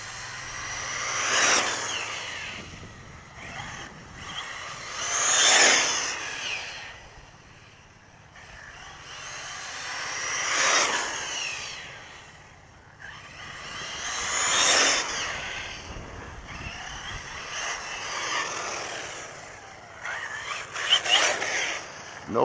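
An Arrma Typhon 6S V2 RC car on grippy street tires runs up and down a residential cul-de-sac, a high whining motor rising and fading in five repeated passes, moderately loud at its peaks and otherwise quiet.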